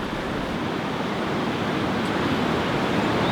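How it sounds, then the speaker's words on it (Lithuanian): A steady, powerful roar of falling water fills the air, broad and unbroken, heard up close at the 422-metre Gavarnie waterfall in the Pyrenees. "Tai dabar mes esam prie Gavarne krioklio, kuris yra 422 metrai aukščio"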